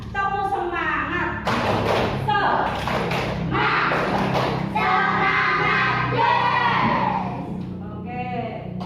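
A group of children claps out the patterned 'tepuk semangat' rhythm while chanting loudly in a Quran reading class, with thumping claps under their voices and a louder voice breaking in between.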